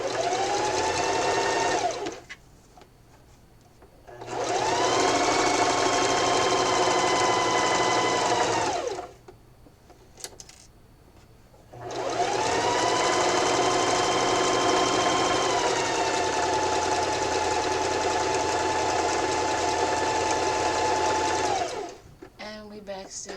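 A sewing machine stitches around the edge of a Valentine pillow in long loud whirring runs of several seconds, pausing between runs while the fabric is turned, with quiet handling noises in the gaps.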